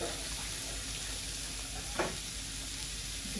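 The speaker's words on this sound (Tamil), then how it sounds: "அது நல்லா கொதித்து கொண்டு வரட்டும்" A pot of fish curry with tamarind boils steadily, giving off a continuous close-up bubbling hiss with one brief louder splash midway.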